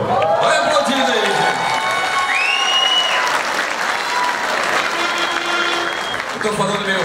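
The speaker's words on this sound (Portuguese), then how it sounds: "Vai aplaudir aí!" An audience applauds during the opening ceremony marking the UNESCO Geopark designation in Uberaba, with steady, dense clapping filling the room and some voices underneath.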